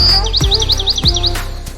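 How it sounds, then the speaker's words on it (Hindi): Bird chirps set into a children's nursery song, a quick run of bright repeated tweets over the backing music, close and clear. "चिड़िया बोली चू चू"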